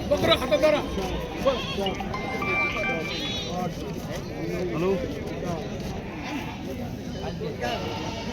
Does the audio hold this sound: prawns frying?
no